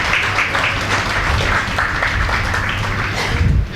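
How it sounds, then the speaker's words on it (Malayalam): An audience at a pension-plan awareness gathering honours a guest with steady, dense applause that stays loud and continuous from start to finish. "ഒരു കൈയടി കൊടുത്ത് അദ്ദേഹത്തെ നമുക്ക് ആദരിക്കാം."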